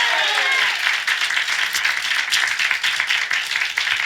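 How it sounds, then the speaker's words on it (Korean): A church congregation applauds to give glory to God during a Sunday morning worship service, a dense, loud, sustained wash of clapping from many people filling the room. "먼저 우리 하나님께 박수로 영광 돌리겠습니다."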